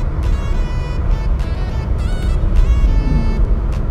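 Corvette driving past outside, a loud sustained engine roar with rising and falling tonal whine, close and continuous with no speech over it.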